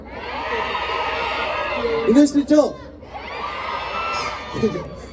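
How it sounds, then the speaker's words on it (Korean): A large crowd at a Korean university festival concert cheers and shouts in a continuous roar, with high whoops rising above it, briefly broken by someone speaking over a microphone before the cheering swells again. "이번 곡들도 첫 곡보다 더큰 함성 소리와 응원 소리 해줄 수 있나요?"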